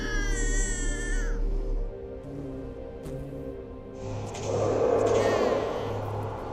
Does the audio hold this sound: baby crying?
yes